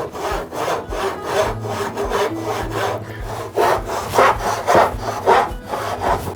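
A hand saw cuts through wood in steady back-and-forth strokes, rasping close and loud, with the rhythm shifting as the strokes lengthen.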